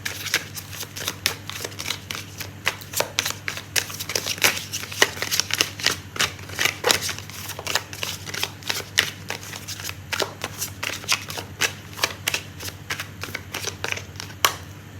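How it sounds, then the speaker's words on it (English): A deck of tarot cards being shuffled up close, with rapid crisp riffling flutters and slaps in repeated bursts that keep going steadily with no talking. "I'm gonna pull out a card for timing."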